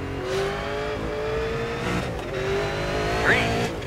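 Super late model race cars in iRacing at Concord accelerating at a green flag restart, engines droning and rising in pitch, with a brief tire squeal near the end.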